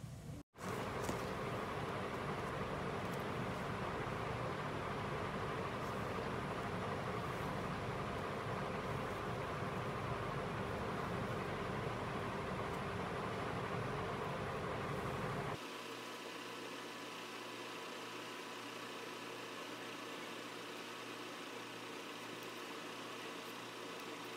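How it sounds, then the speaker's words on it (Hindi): A sewing machine runs continuously while stitching a crisscross design on trousers, a steady mechanical hum with no break in the whirring, dropping to a quieter motor drone for the final stretch. "तो चलिए इसी तरह से इस पूरे पैटर्न में सिलाई लगा लेते हैं।"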